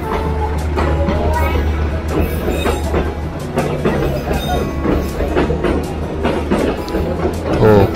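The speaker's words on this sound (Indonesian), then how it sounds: "kereta penumpang atau kereta orang ini, perjalanan ini ada 1, 2, 3. Ada berapa ini nanti ya gerbongnya?" A passenger train with many carriages rolls past on rails near a station in Malang, a loud close continuous rumble with rhythmic clickety-clack of wheels over joints throughout.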